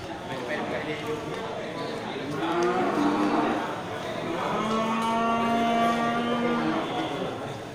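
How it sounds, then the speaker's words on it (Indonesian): Breeding cattle at a livestock sale give two long, loud moos, one after the other, close by, with a busy farmyard background. "Sapi-sapi super dari Bang Jo."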